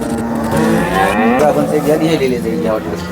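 A cow moos loudly and at length at a cattle market in Sangola, a deep drawn-out call close by, with faint background noise.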